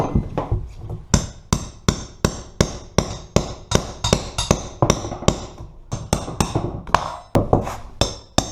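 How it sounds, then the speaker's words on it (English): Sharp repeated hammer blows on nails in particle board underlayment under removed vinyl flooring, a steady close series of loud whacks about twice per second, alone with no talk. "we're going to have to hammer and pry out all these nails"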